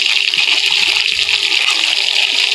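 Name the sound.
lote fish frying in oil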